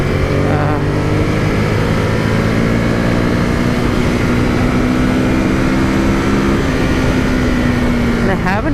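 A 2018 Ducati Monster 821 engine drones steadily and loudly while riding, its pitch holding then dropping around a gear shift from third to fourth, with wind rush throughout.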